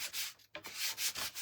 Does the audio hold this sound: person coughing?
no